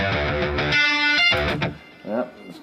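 Bright, buzzy tones from a Native Instruments FM8 FM synthesizer with metallic harmonics, a sustained chord shifting into shorter stabs, up close with no voices.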